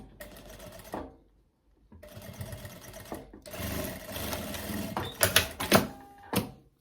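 Bursts of a sewing machine stitching three dress straps together, running in several short whirring runs separated by brief pauses, with a few louder mechanical clacks near the end.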